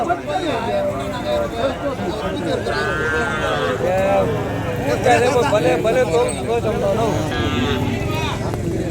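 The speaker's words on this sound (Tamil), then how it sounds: "இங்கே ஒரு பசு மாடு ஜோடிங்க" Cattle moo and low repeatedly amid a busy native-breed livestock market at Kundarapalli, Krishnagiri, with people talking and a steady crowd hubbub throughout.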